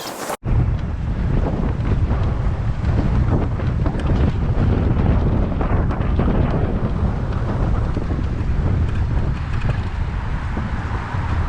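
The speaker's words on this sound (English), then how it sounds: "it's super windy, so plus the traffic" Strong wind buffets the microphone on a bike ride to Bill Baggs State Park in Miami, Florida, a loud, constant roaring rumble that fills the whole stretch with no break.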